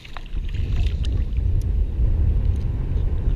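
Strong wind buffets the microphone outdoors, a heavy, low, continuous rumble that never lets up.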